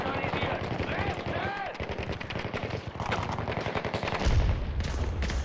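Automatic gunfire in the video game Battlefield 2042, rapid bursts of shots close by and loud, with a deeper boom near the end and someone talking over the shooting.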